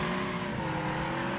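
A car spinning out in the Wreckfest demolition derby video game, with a steady engine drone and tire noise throughout, loud and close, no talk.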